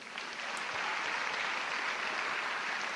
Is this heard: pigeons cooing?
no